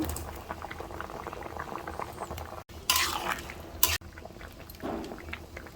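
Vegetables for a stew boiling in a pot, a continuous close bubbling with a couple of brief louder splashes or clatters partway through, no voices.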